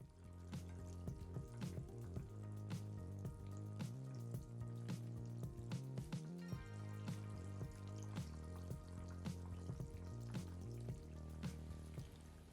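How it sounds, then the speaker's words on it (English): Butterfly shrimp sizzle faintly while deep frying in hot oil on a high flame, a soft continuous crackle sitting under louder melodic background music. "add the fried shrimp back into the oil and fry it for a"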